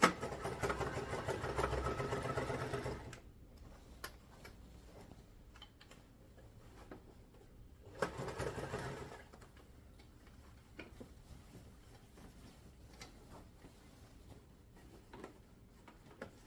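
A sewing machine stitches a storage cube bag, running in a steady mechanical burst for about three seconds, stopping, then running again briefly around the eight-second mark, with quiet pauses in between.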